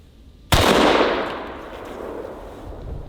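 A big-bore rifle fired at a watermelon outdoors: one sharp, very loud report after a brief quiet, followed by a long rolling echo that gradually decays.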